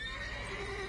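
A horse whinnies in a long, steady cry in a PlayStation video game, over a dense, continuous background, filling about a second.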